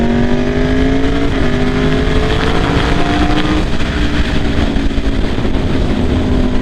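A 2016 Aprilia RSV4 RF motorcycle with an aftermarket exhaust, its engine droning steadily and loudly with a gradually climbing pitch throughout, heard alone without talk.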